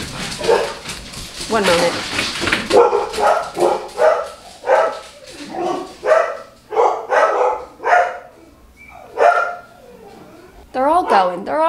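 Several dogs indoors barking in a rapid, loud series close by, with whimpers and yips mixed in and someone talking over them.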